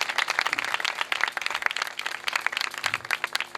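Audience applause for a guest at a religious gathering, a dense, sustained wash of many hands clapping throughout, fairly loud and continuous with no talk.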